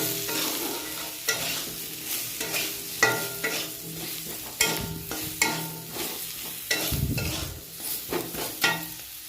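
Potatoes frying in a pan with turmeric, salt, cumin and coriander powder are stirred in a steady rhythm, a spatula scraping repeatedly through a soft continuous sizzle, close and moderately loud with no talking.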